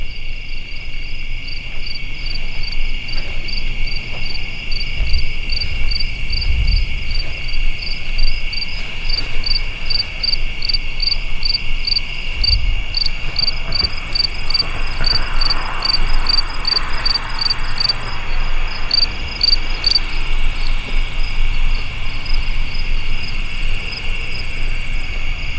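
Many insects chirp at night in a cemetery, a dense, continuous high trill with pulsing clicks layered on top, steady throughout with faint low rumbles in the background.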